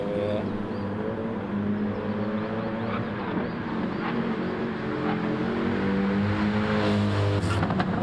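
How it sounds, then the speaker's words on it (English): A race car engine in a sim racing league race drones steadily and loudly throughout, with a commentator talking over it. "can he get that car running?"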